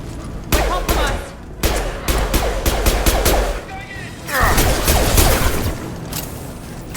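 Bursts of automatic gunfire from Blue Suns mercenaries and Vorcha rattle through a Mass Effect 2 firefight, loud clustered volleys with brief pauses between them and thuds mixed in, while a voice speaks over the shooting.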